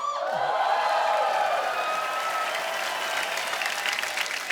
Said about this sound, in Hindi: जोरदार तालियां एक बार।